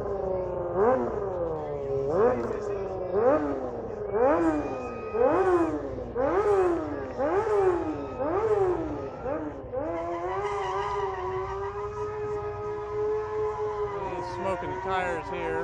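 A stunt rider's engine revs up and down in a rhythmic series of rising whines, then holds a sustained high tone as the tires smoke and squeal, loud and close.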